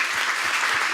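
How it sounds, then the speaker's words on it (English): A short burst of dense clapping from a conference crowd at Brussels Forum 2018, loud and continuous. "I think all of you deserve a round of applause."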